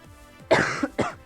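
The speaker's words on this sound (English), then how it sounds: "That cough is still here." A single person coughs close up in two quick, sharp bursts during a quiet moment.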